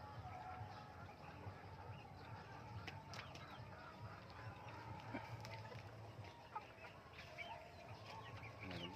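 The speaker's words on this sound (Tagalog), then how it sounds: "Ito po ang ating mga alagang manok ngayon." Chickens clucking and fluttering across a busy outdoor yard, with steady background noise and occasional wing flaps throughout.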